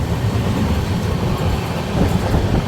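The Mahakaushal Express runs at speed on its rails, heard from on board as a steady loud low rumble with faint rhythmic clatter from the wheels and no pauses.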